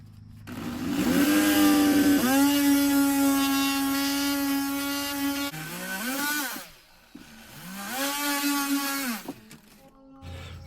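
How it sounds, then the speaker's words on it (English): A plastic plumbing pipe is cut to shorten it with a high motorized whine in two long bursts, the pitch sagging as the blade bites, followed by a short scraping tail. "Let me cut that off and make it shorter."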